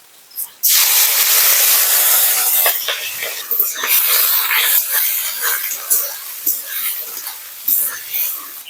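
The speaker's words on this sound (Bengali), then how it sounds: "এবার আমি চিংড়ি মাছগুলো তেলের মধ্যে দিয়ে ভেজে নেব" Prawns hit hot oil in a wok with a sudden loud, broadband hiss, settling into a steady, bubbling sizzle with some crackle that continues up close for several seconds.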